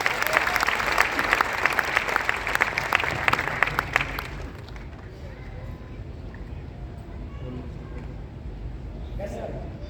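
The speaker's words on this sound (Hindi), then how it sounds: "तालियां जोरदार वाली चाहिए सर।" An audience at a gathering bursts into loud, dense applause that stops abruptly after about four seconds, followed by quieter room noise and faint speech.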